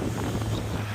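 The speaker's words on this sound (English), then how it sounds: "Probably can't hear me because the wind's too loud." Wind buffets the microphone aboard a 20 ft crab-fishing skiff at sea, a brief, steady, rumbling rush of gusty noise.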